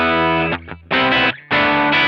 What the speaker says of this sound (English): And this is a generic crunch tone I made.